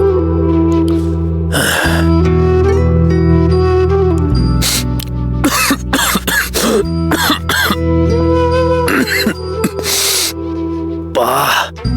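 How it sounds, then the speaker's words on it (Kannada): A woman coughing repeatedly in bursts of harsh, throaty coughs and throat clearing, close and loud over a droning musical background, in a Kannada TV serial scene. "ಯಾಕೆ ಹಾಳದ ಕೆಮ್ಮು ಇಷ್ಟು ಡಿಸ್ಟರ್ಬ್ ಮಾಡ್ತಿದೆ?"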